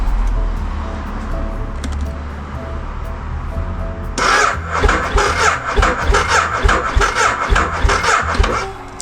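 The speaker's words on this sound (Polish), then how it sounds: "Ciekaw jestem, czy ja w ogóle uruchomię ten motocykl." A motorcycle engine cranks on its electric starter and catches about midway, then runs with a rough, pulsing idle close by after a quiet, murmuring start.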